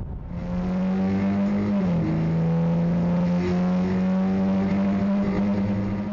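Volkswagen Castrol Cup race cars roaring around the Slovakia Ring circuit, a loud sustained engine drone with pitch shifting as they rev and change gear, dense and continuous throughout.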